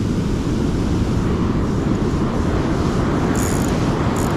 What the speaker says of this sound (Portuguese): O mar está bom, está a mexer bem, está forte.